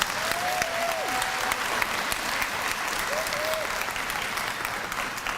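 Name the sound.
applause for elementary school students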